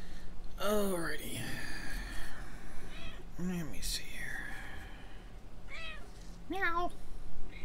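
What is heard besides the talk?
domestic cat meowing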